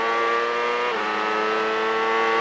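A 1998 CART race car screams at high revs as it accelerates up through the gears, one loud continuous engine whine with a brief dip at the gear change before climbing again.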